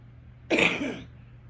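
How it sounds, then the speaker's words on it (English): A single short, dry cough, close and clear, rising abruptly from near silence and fading within half a second. "I've got this dry cough"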